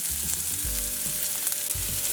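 Onions sizzle steadily in a frying pan of hot chili-infused coconut oil, a close, even crackle with a few low thumps as they are stirred.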